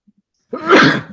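A single sharp human sneeze bursts out after a brief quiet lead-in, loud and close, with a short tail as it fades.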